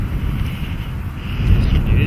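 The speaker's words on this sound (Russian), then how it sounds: "Средний ветер." Moderate wind buffets the microphone outdoors in the Altai mountains, a steady low rumble that swells slightly toward the end.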